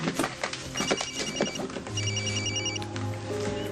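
A telephone rings with repeated electronic trills in a TV soap opera scene, moderately close with a steady hum beneath and no speech over it.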